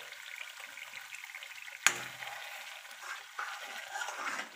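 A spoon scrapes and stirs kadai paneer masala in a covered pan, and the masala sizzles faintly. A sharp clank comes early, followed by soft, intermittent stirring scrapes.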